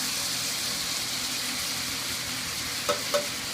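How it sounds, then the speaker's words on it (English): A steak's fat edge being seared in a hot oiled pan, with a loud, continuous close sizzle throughout and two brief utensil knocks near the end, no talking. "So turn it up on its side and sear that."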